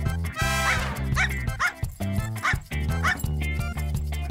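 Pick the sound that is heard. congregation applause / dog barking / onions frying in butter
dog barking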